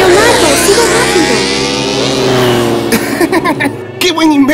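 A cartoon motorcycle engine revs loudly and speeds off with a rising whine, close and dominant, then breaks into choppier bursts as a voice speaks over the end.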